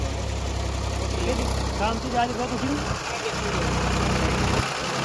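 Tractor engine running during soil levelling work in a farm field, a steady low mid-range drone close by, with someone talking over it.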